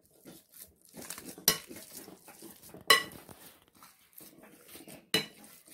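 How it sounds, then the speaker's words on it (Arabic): Boiled potatoes are mashed in a bowl, with a series of soft squelching presses and scrapes broken by three sharp clacks of the masher against the dish. "عندنا 2 كيلو بطاطا سلقناها وقطعناها، هنهرسها"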